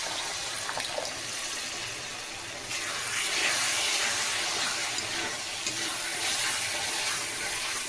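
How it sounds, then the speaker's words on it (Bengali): A little water goes into masala frying in oil for ghugni, giving a steady close rush of splashing and sizzling that swells louder partway through and keeps going. "কষানোর জন্য দিয়ে দিচ্ছি অল্প জল"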